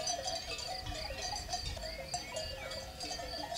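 Sheep flock penned together in an enclosure, a steady mix of overlapping animal noises and bell-like tones held at moderate distance, with soft bleats running throughout.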